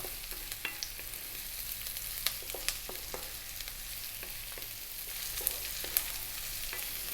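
Chunky-cut broccoli fries in a pan above medium heat, giving a steady close sizzle with scattered pops and light clicks of stirring. No one speaks.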